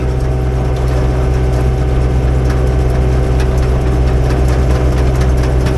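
A small engine runs steadily at low RPM, a continuous close, loud idle-like drone with no pauses, heard after a leak on the machine was fixed while reworking old ripped-up turf.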